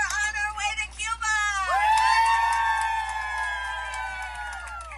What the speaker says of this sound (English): They are cheering themselves on